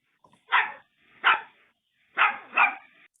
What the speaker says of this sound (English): Here's one dog.